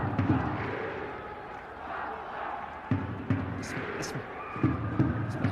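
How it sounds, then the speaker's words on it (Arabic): Football stadium crowd at an Iraqi league match in Nasiriyah, a steady roar of fans with a few louder surges, heard beneath a commentator's continuous voice. "صوت الجمهور، الجمهور لا يهدأ"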